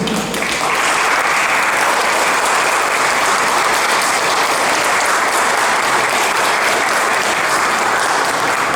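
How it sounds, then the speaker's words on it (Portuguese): At a formal award ceremony in Brazil, an audience breaks into loud, sustained applause that swells in the first second and then holds as a thick, constant roar of clapping for several seconds. "que eu pediria que se levantasse para receber nossos aplausos"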